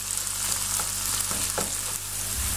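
Onion frying with salt and pepper, a dense, even hiss of sizzling oil up close, with a couple of faint stirring scrapes and no talk.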